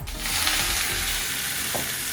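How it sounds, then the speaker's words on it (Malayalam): Mustard seeds splutter in hot coconut oil in a pan, a dense, bright crackling hiss that swells quickly and holds steady, with one small knock near the end. "കുറച്ച് വെളിച്ചെണ്ണ ഒഴിക്കാം നമുക്ക് ഇതിൽ കടകും വറുക്കാം"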